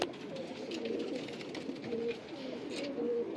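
Pigeons coo softly and repeatedly at close range, with low throaty calls recurring in a loose rhythm over a faint background hiss.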